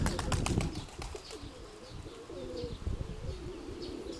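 A pigeon coos outdoors in low repeated notes, with faint chirps and a brief burst of wing flapping near the start and steady low outdoor noise underneath.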